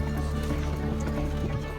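Horse-drawn buggies clip-clop along in a steady hoof rhythm, the dense, continuous sound fairly close and loud with a low rumble beneath, evoking an 1800s town street.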